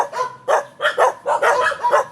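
Dogs at a bahay kubo nipa hut bark loudly and close by in a quick run of about seven sharp barks, some overlapping, with no speech.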